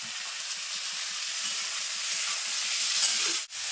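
Vegetables with capsicum frying in a pan for vegetarian fried rice, giving a steady, close, loud sizzle with faint scraping stirs throughout, no talking.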